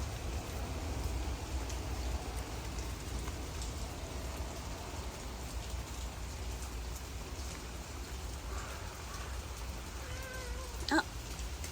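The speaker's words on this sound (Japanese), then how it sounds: "すごい雨やね。 風も強いよ。" Heavy rain pours steadily in strong wind outdoors where community cats are being fed, a dense, constant wash of rainfall, with a brief cat meow near the end.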